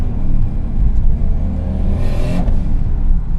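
A Toyota Supra with a 7M engine and beefed-up valve train revs hard near redline, a loud dense roar with a rising whine that climbs and peaks before dropping back, continuous with no voices.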